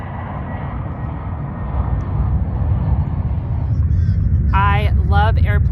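A fixed-wing airplane on approach to land near an airport, its broad engine roar swelling steadily over about six seconds and close enough to fill the scene, with a voice speaking briefly near the end.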